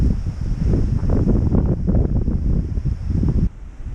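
Steady, loud coastal wind buffeting the microphone on a clifftop path, a dense low roar with gusty surges throughout, dropping slightly near the end.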